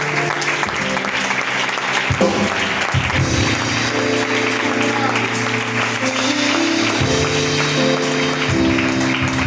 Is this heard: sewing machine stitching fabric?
no